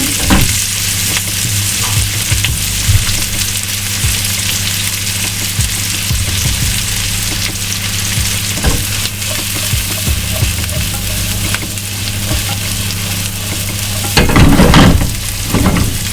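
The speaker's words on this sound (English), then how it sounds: "So we're gonna saute through the shallots as well." Shallots sauté in a hot pan for a green chicken curry, a steady close sizzle broken by scraping stirs, growing louder and busier as they are tossed near the end, with no talking.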